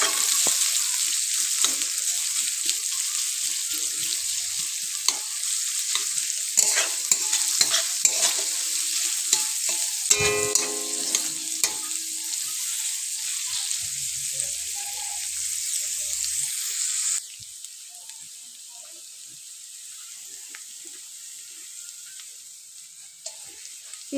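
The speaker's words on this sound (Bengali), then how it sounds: "তেলটা গরম হয়ে গেলে তাতে আমি দিয়ে দিলাম পেঁয়াজ কুচি। এবার প্রথমে পেঁয়াজটা একটু নেড়ে নিতে হবে।" Chopped onion sizzles and fries in hot oil in a wok, with repeated stirring scrapes and clatter over a steady hiss. Near and fairly loud, with no talking, and the sizzle drops to a quieter fry near the end.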